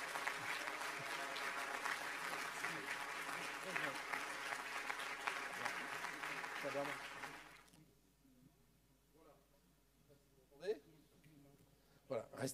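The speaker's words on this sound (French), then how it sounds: "je voudrais que vous l'applaudissiez fortement" Audience applauding strongly at a New Year's greetings reception for a voluntary gymnastics association, a dense sustained clapping that fades out and then gives way to a few scattered claps and quiet room sounds.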